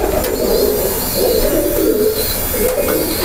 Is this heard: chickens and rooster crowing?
no